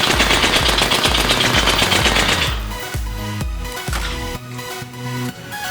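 A P90 submachine gun in the VR game H3VR fires a long, loud, rapid automatic burst, then breaks into shorter spaced volleys of shots with reverberant tails.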